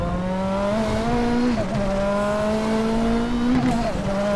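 A Nissan Silvia Turbo Group 5 racer in the RaceRoom Racing Experience sim at Zolder, its loud engine note dropping as the driver brakes, with a brief wobble in pitch before the revs pick back up.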